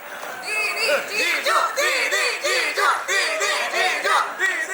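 A crowd at a personality contest yells and cheers in rising, repeated bursts of shouting voices, loud and sustained, with chatter mixed in.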